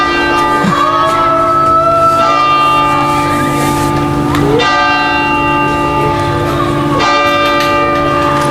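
A large bell or gong rings loudly and repeatedly at an outdoor Olympic flame relay ceremony in France, its long ringing tones overlapping and sustaining throughout, with fresh strikes every few seconds.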